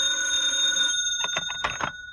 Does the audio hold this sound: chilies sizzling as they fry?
no